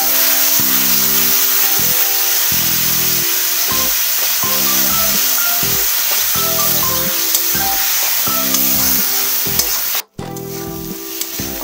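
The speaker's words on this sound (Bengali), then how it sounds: "এবার এই তৈরি করে রাখা যে মশলাটা সেটা আমি তেলে দিয়ে দেব।" Panch phoron spice mix frying in hot oil for panch phoron rui, a loud, continuous sizzle and crackle with faint stirring clinks and music playing underneath, a brief drop near the end.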